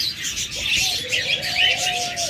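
Caged pet birds such as budgerigars and cockatiels chatter and chirp continuously, a dense layer of high twitters with a few clearer whistled notes, close by, with voices faintly mixed in.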